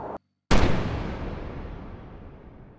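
US tanks and Bradley fighting vehicles fire on Iraqi T-72 tanks: after a short silence, one heavy, close blast hits hard and rolls away in a long, fading rumble, with no talk.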